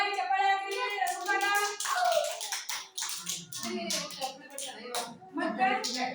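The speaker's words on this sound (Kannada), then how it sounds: "ಜೋರಾಗಿ ಚಪ್ಪಾಳೆ ಹಾಕಿ" Loud hand clapping from a group, likely children following a teacher's cue, sharp irregular claps mixed with voices talking and calling out throughout.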